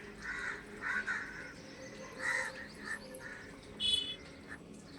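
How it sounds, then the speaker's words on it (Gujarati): Crows caw a few times at a distance in quiet morning air after yoga, harsh calls spaced irregularly over faint background hiss, with a sharper nearer caw near the end. "કાગડા બોલે"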